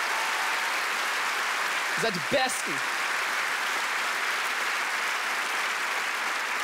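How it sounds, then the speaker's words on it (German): Audience applause for all mothers, a steady wash of clapping throughout, with a voice briefly calling out over it partway through. "Können wir mal einen Potthound-Gang-Applaus für alle Mamas auf diesem Planeten haben?"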